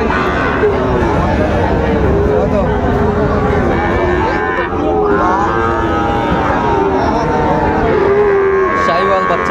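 Sahiwal cattle at a busy cattle market in Chittagong moo repeatedly, with long, loud lowing calls over steady crowd babble and nearby voices.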